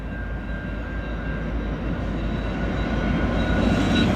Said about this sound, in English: We have ourselves a westbound freight train at the Carew Diamond in Woodstock.